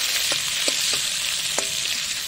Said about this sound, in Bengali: তেলটা গরম হয়ে গেছে, আমি আজকে পুরো সরষের তেলেই রান্না করছি।